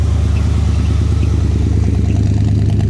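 A Chevy Suburban truck engine idles steadily up close while warming up after a cold start, a low continuous rumble with a faint rhythmic clatter, unchanging throughout.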